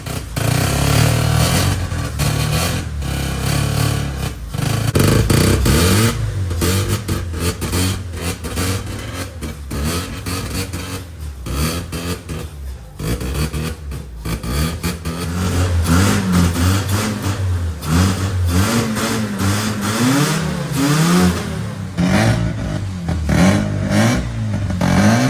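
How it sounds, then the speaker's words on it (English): A 1985 Mazda RX-7 rotary engine revved repeatedly, loud rising and falling engine roar with clattering bursts over a long stretch, no voices. "give it a lot of gas. Like rev it up a little bit."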